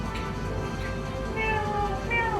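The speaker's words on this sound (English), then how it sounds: "Maybe there seems to be a cat outside." A cat meows outdoors, its few drawn-out calls rising over a steady background hum, moderately distant and not loud.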